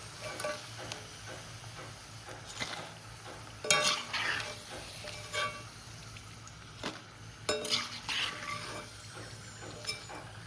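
Banana slices frying in hot oil for Onam kaya upperi, a soft continuous bubbling sizzle punctuated by occasional clinks and stirring scrapes, fairly quiet and close.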